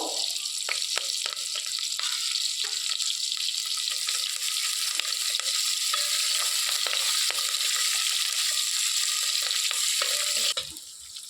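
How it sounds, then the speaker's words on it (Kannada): Onion and curry leaves frying in hot oil with mustard seeds for a Karnataka okra sambar, a steady, loud sizzle that runs continuously with light scraping and stirring clicks, easing slightly near the end. "ಈರುಳ್ಳಿ ಚೆನ್ನಾಗಿ ಫ್ರೈ ಆಗಿದೆ"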